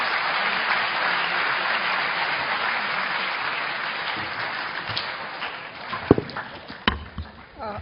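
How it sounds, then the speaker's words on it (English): Audience members at an international relations conference session on Gulf energy security applaud the panelists in a dense, steady burst that thins out toward the end, leaving a few scattered claps. "I would like to request you to join me in giving applause to all the"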